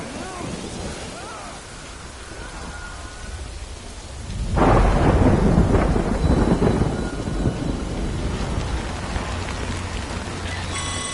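Rainstorm in the video game Death Stranding: steady hissing rain throughout, with a loud rolling thunderclap breaking in midway and rumbling for several seconds before fading back under the continuing downpour.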